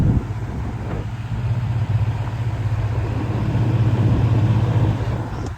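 An Air King PL 20 E vintage box fan runs on its high setting, recorded up close, giving a steady, fairly loud whooshing hum with a low motor drone that holds even throughout, with no talking.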